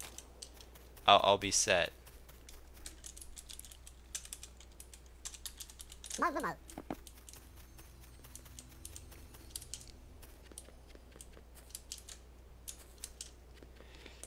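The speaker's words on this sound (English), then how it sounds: "this is butterfly clicking" Rapid butterfly clicking on a computer mouse during a video game, two short dense bursts of fast clicks early and midway, with scattered lighter clicks and brief talk around them.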